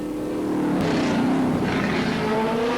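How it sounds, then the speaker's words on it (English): A 1979 Formula 5000 race car with a flat left rear tyre runs toward the pits at Oran Park, its engine a loud continuous drone with a shifting pitch. "Alf Costanzo, is he headed for the pits in car number 84?"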